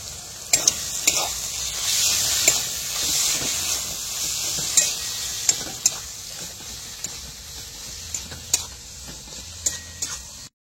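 Spice paste (masala) fries in a pan with a bright, hissing sizzle, broken by sharp clinks and scrapes of a spatula stirring close by. No voice is heard.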